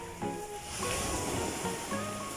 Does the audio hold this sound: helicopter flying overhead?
no